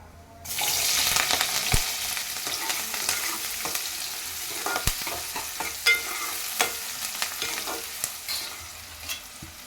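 Chopped onions and curry leaves dropped into hot oil in a pan, a sudden loud sizzle that settles into a steady frying hiss, broken by sharp spoon-on-pan stirring clicks.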